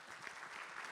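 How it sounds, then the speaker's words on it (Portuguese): Faint applause from diners at a dinner debate event, a soft continuous wash of many hands clapping at a distance, lasting under a second. "Vamos dar uma salva de palmas para o Guga, né?"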